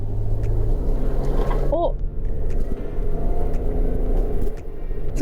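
A Suzuki Jimny JB64 with manual transmission pulls away and accelerates on a mountain road, its engine a steady low rumble heard from inside the cabin, with a brief exclamation from a passenger.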